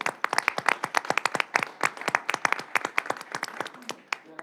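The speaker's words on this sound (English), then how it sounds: "Maybe a round of applause." Applause at a city common council meeting for the accounting staff: a small group clapping in distinct, fairly loud individual claps, close and irregular, tapering slightly toward the end.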